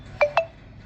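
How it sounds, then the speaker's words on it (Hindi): Two short electronic beeps from a phone, evenly spaced and clear in a quiet home during an aarti and puja session. "क्या टुन टुन टुन टुन बज रहा है फ़ोन में।"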